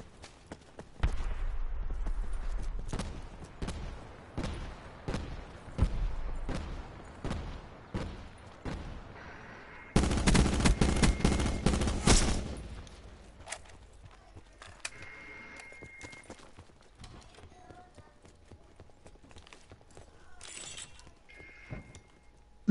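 Sharp sniper rifle shots echo in a Call of Duty Blackout match, spaced cracks in the first half followed by a loud dense burst of fire, then quieter scattered sounds.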